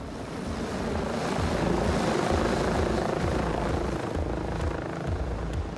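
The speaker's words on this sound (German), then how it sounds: "Aber das ist kein normaler Helikopter." An emergency rescue helicopter flies close by with a loud, steady rotor and engine roar that holds for several seconds, dense and unbroken.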